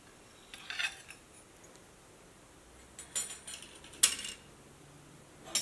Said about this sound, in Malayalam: ഇതാ കേക്ക് ഞാനൊരു പ്ലേറ്റിലേക്ക് വെക്കട്ടെ.